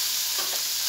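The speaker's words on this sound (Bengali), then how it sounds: "পেঁয়াজ দিয়ে একটু নাড়াচাড়া করে নেব।" Chopped onions frying in oil while being stirred in a pan, a continuous loud crackling sizzle with a faint scrape of stirring, heard alone.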